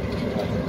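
A train rumbles through Mankiala railway station, a steady low drone with faint rolling rail noise and no distinct wheel clicks, heard for a brief moment at moderate level.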